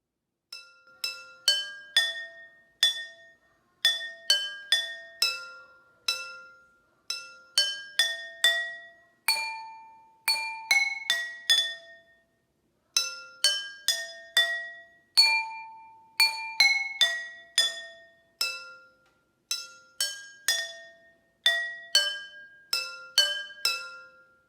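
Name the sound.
water-filled glasses played as musical notes, high to low pitch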